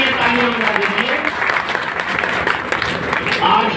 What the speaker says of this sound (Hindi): बंधुओं को इनके लिए तालियां बजा दीजिए